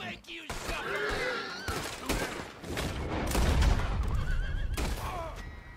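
A horse whinnies in Red Dead Redemption 2 amid bursts of gunfire, with a voice talking over the game sounds throughout.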